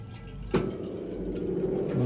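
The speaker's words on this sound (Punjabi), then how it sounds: "ਮੈਂ ਤਾਂ ਸਦਾ ਐਵੇਂ ਕਰਕੇ ਪਾਣੀ ਭਰਦਾ ਨਾ ਐਵੇਂ ਕਰਕੇ" Water being poured into a vessel to make tea, with a sharp splash near the start and a steady close pouring, filling sound that continues throughout, no voices.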